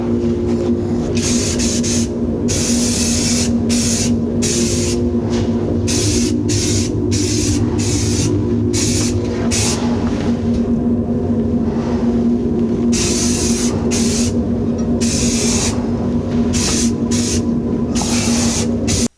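Steady, loud hiss of an old aerosol can spraying primer, continuous with brief sputtering breaks, close up and with no one talking.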